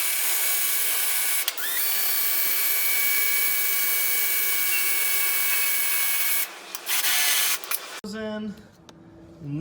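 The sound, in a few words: drill boring pilot holes in metal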